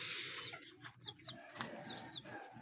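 Chickens clucking softly at a pigeon and poultry loft, with short chirpy calls and scattered rustling, fairly faint and close, no voices.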